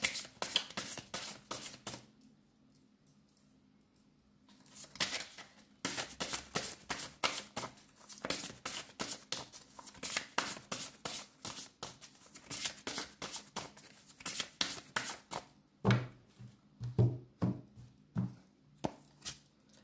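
Tarot cards being shuffled by hand, rapid crisp riffling clatters in repeated bursts with a quiet pause early on, close and clear with no voices.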